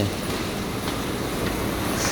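A train rumbling past at close range at Don Mueang railway station in Bangkok, a constant broad roar with faint rhythmic clatter and occasional squeal, no voices.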